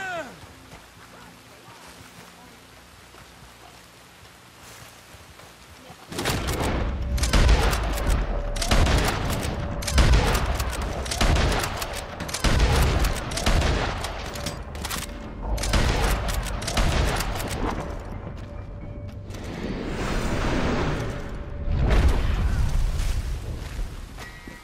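After several quiet seconds, heavy gunfire breaks out in loud, sustained volleys and rapid bursts, continuing to the end, with voices talking over it.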